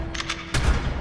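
Video-game gunfire aimed at dinosaurs: a few rapid shots sound first, then a heavier, sustained burst of blasts in the second half, loud and with no talk over it.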